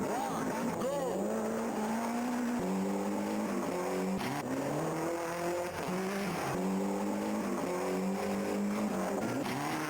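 A rally car's engine revs and its tires squeal continuously in the World Rally arcade game, with repeated rising engine sweeps and gear changes, while people talk over the game sound throughout.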